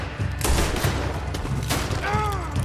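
Gunfire in Red Dead Redemption 2, a dense volley of loud, close shots running steadily throughout, with a voice briefly calling out near the end.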